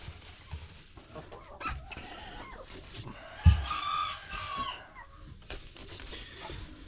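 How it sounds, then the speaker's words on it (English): Chickens cluck in scattered bursts nearby, with one louder squawk midway over a low, busy farmyard background. "that's too many chickens"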